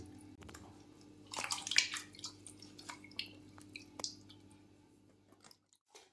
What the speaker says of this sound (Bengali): এটা আবার নতুন জলের মধ্যে দিয়ে দিচ্ছি এইভাবে তিন থেকে চারবার করতে হবে